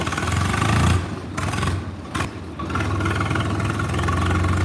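A Swaraj tractor engine idles steadily with a low, rumbling throb, close by and fairly loud, dipping briefly in the middle before settling back.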